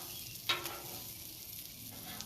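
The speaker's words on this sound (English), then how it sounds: "Get that good sizzle going on. Bacon grease, onions, life is good." Onions frying in bacon grease on a grill give a quiet, steady sizzle with a brief scrape of a spatula stirring them partway through.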